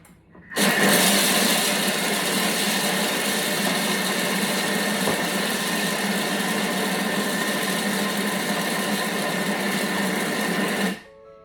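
A Thermomix chops sun-dried tomatoes on speed 5, a loud steady high-pitched whirring that starts abruptly and runs for about ten seconds before stopping sharply.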